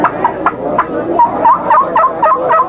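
A contestant's voice imitates a wild turkey gobble at a turkey calling contest: a rapid, warbling, rattling series of gobbling notes, loud and close, with no talk over it.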